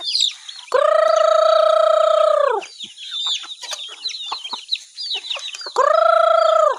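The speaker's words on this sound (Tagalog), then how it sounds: "papakain tayo ng manok" Chickens at feeding time, fed dried rice bran and rice, a rooster crowing loudly twice with busy clucking and chatter among the flock between the crows, close by.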